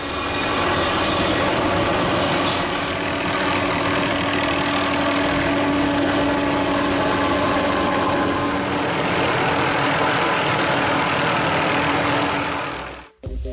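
A helicopter fitted with a saw cutting mechanism trims tree branches near power lines, giving a loud, steady engine and rotor roar that runs without a break before cutting off abruptly.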